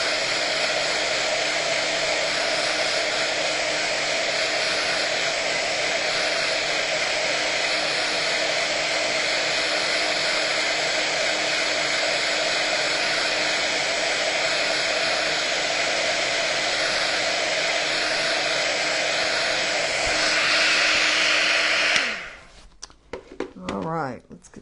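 A hair dryer blows steadily and loudly at close range, drying a snow globe mould, then cuts off near the end, followed by brief handling noises.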